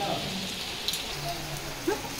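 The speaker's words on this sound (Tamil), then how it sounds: "மழை பெய்யுது, அங்க போக முடியாது." Rain falling outdoors gives a steady, soft hiss of drops with a couple of brief louder taps, fairly faint and even throughout.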